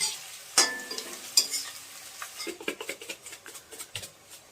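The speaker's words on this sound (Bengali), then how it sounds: "তো দেখুন বন্ধুরা, পেঁয়াজটা আমি ভেজে নিচ্ছি" Chopped onion frying in a pan for a spicy red chicken curry, with a sharp clatter and scrape near the start, then soft sizzling and light stirring taps throughout, close and fairly quiet.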